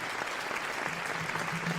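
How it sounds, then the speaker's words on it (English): An audience applauds for Lorion at a live show, a dense, steady burst of clapping with a faint low tone running beneath, close and continuous throughout. "Let's clap it up for Lorion again, guys."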